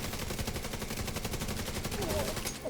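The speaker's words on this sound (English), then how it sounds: "So I'm shooting him in the face." Rapid automatic gunfire from a Battle for Brooklyn shooter video game, a dense, steady stream of loud shots with no pauses.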